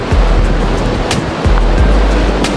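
The Acqua Bianca waterfall below Monte Rosa, near Alagna, pours in a loud, continuous broadband roar of rushing water, close and steady throughout with no voices.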